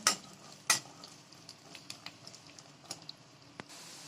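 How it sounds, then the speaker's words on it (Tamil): Garlic sautés in oil in a pan for a Nellore kara chutney, a soft steady sizzle broken by a few louder scrapes and clinks of stirring, fairly quiet and close. "பூண்டு கலர் மாறுற அளவு நல்லா வதக்கிக்கோங்க"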